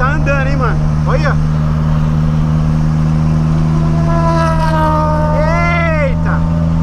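A Volkswagen Gol accelerates, heard as a loud, steady engine drone with a rising whine, and voices talk over it throughout.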